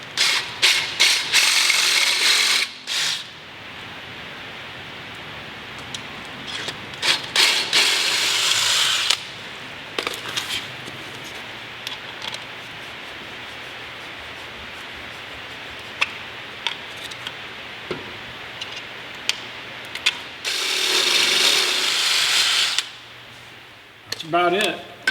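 A power drill whines in several bursts of a few seconds each as a lubricated bit bores into metal on a Volvo 242, with quiet clicks and handling noises between runs.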